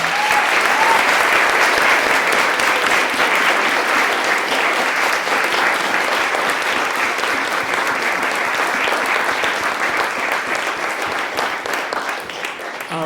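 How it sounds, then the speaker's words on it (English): An audience at an academic talk on activism history gives sustained, loud applause for the speaker, dense clapping that holds steady for over ten seconds and tapers slightly at the end. "please join us for a round of applause for our great speaker"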